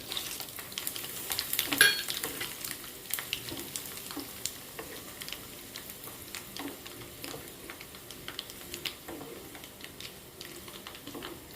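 Asafoetida and red chili fry in oil for citron pickle, a quiet, close crackling sizzle with scattered ticks and light spoon scrapes against the pan.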